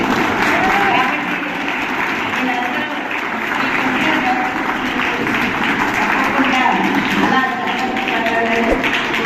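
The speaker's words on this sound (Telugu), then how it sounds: "మీలో ఎవరికి ప్రయత్నించినా గట్టిగా చప్పట్లు కొట్టాలి" Audience applause at a karate and kung-fu championship event, a steady dense wash of clapping sustained for several seconds with a crowd murmur beneath.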